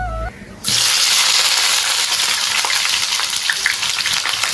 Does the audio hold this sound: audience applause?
no